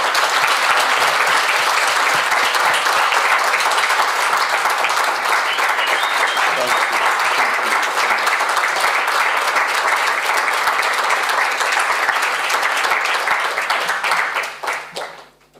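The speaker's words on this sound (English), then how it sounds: "a very huge round of applause for our generous and thoughtful hosts" Loud, sustained applause from a large audience at the AICA International congress, honoring the hosts, with dense steady clapping filling the hall for about fourteen seconds before tapering off at the end.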